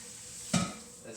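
Butter hits a hot pan while carrots are being cooked, giving a sudden close sizzle that swells and quickly fades, with faint kitchen clatter afterward.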